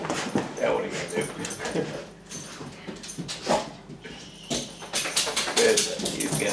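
A dog whimpers and yips in short, uneven bursts close by, mixed with shuffling and thumps, while people talk intermittently around it.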